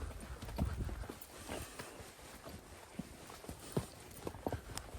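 Horses kept at a rural home walk outdoors, their hooves making faint, irregular clip-clops on the ground against a steady background hiss.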